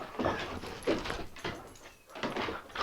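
A pet dog at a home beside railroad tracks in Cohutta, Georgia, moves about restlessly with scuffling and thumping, letting out soft whimpers in a steady, busy stream of close sound.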